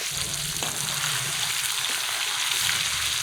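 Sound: katla fish frying in a kadai

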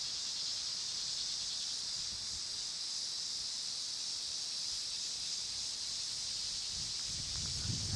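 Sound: wind

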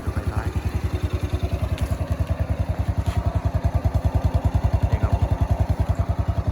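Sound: Ryuka Classic 110cc motorcycle engine idling

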